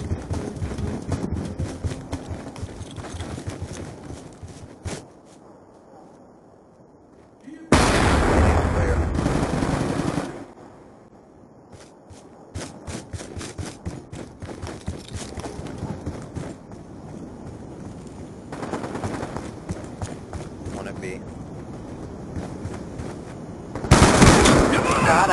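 Repeated gunshots crack out in a Search and Destroy match of an online shooter, arriving in scattered bursts and rapid strings with a few louder, sustained volleys standing out from the rest.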